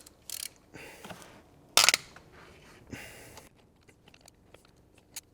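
Camshaft cap bolts on a BMW E46 330i being loosened a quarter turn each with a ratchet, several short separate metallic clicking and ratcheting bursts with quiet gaps between them, close up and without talk.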